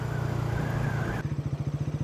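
A Bajaj Pulsar NS400 motorcycle rides over small stones, its engine a loud close drone that shifts into a rapid pulsing chug near the end, with no talk.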